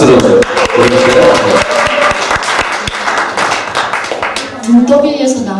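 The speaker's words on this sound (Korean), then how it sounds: "박수로 보여주세요" Church retreat audience clapping for a testimony speaker at a Thanksgiving gathering, loud close individual claps in a brisk irregular burst, with a voice starting to speak near the end.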